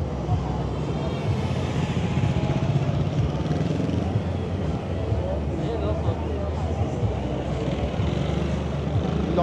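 A Cove 450 RR motorcycle engine at a moto bazaar, a loud, steady revving drone that holds throughout with crowd noise and voices mixed in.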